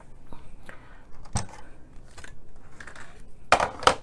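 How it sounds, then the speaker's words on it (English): A Big Shot die-cutting machine pressing a paper piece, heard as scattered crunching and clicking with a couple of louder snaps near the end, close by. "I'm gonna just bring the big shot up here and we'll cut out our piece for around the window and then we'll cut out our window"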